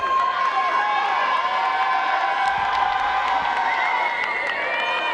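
Spectators at the 2024 USA Ultimate Nationals women's semifinal between Fury and Molly Brown cheer loudly and steadily, with high shouts and whoops rising above a sustained crowd roar outdoors.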